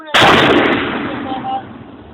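A 120 mm mortar fires during a military live-fire drill, a single loud, sharp blast that strikes suddenly and then trails off into a rumbling echo over about two seconds.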